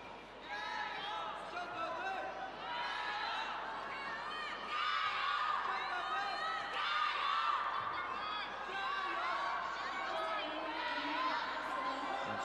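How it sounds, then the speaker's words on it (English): At a women's doubles badminton tour match, a large crowd keeps shouting and chanting jiayou to urge the players on, a dense, steady roar of many voices that swells and dips but never stops. "Once again, lots of jayos from the crowd, encouraging the players"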